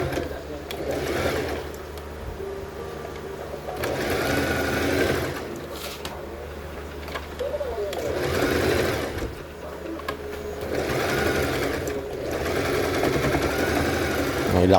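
Sewing machine stitching a hole in short pants, running in steady whirring bursts that stop and start, close and loud, with a voice talking faintly underneath.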